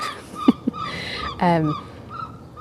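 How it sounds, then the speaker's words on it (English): A few short seagull calls at a garden centre, gull-like cries with one harsher, buzzy squawk in the middle, fairly close against a soft background hiss. "That little noise of the seagulls will be drowned out."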